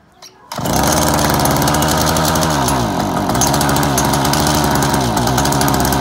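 A lawn mower engine starts up after a brief quiet moment, then runs loud, close and steady with a rough, rattling drone to the end.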